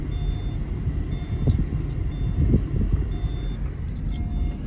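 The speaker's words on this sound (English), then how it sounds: "Big old transport vehicle is what it is." A big car carrier transport truck rumbles as it drives off, a loud, steady low engine roar with faint periodic beeping tones over it and no talking.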